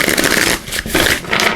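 Oracle cards from a deck being shuffled by hand, a steady papery riffling and sliding that carries on with a short dip midway, close and fairly loud, with no voices.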